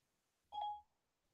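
A phone gives a single short dialing tone, a clean electronic beep lasting about a quarter second against near silence.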